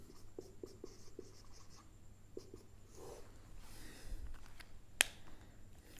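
A pen writing a formula by hand on paper, faint close scratchy strokes in short bursts with pauses, quiet room and a sharp tap near the end.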